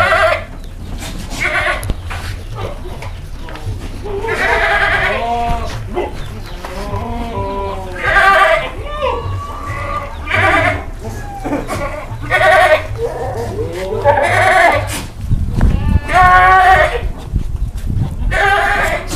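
Jumbo goats at a farm in Central Java bleat loudly and repeatedly, several animals calling over one another close by, with farmyard noise underneath and no clear talk.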